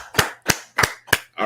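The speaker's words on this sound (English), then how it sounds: "Let's clap it up." A group of people clapping in unison during an exercise drill, four sharp, loud claps spaced about a third of a second apart, followed by the start of a voice.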